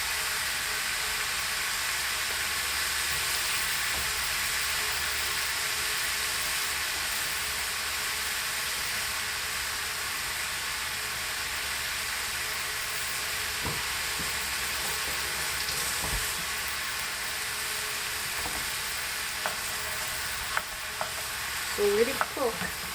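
Garlic, onions and meat fry in a pan with a steady, close sizzle and hiss that runs throughout, broken by a few faint stirring knocks and scrapes toward the end.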